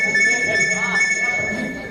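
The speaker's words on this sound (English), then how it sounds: "And right now, this alarm is going off" An alarm clock ringing, a loud, steady high-pitched electronic tone sustained throughout, with a voice briefly audible underneath.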